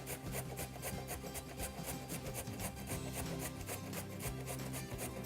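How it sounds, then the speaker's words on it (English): Raw beet grated on a handheld cheese grater for a spring salad, a steady close rasping scrape with quick regular strokes throughout, with no talking. "this just goes right from raw beet onto the cheese grater"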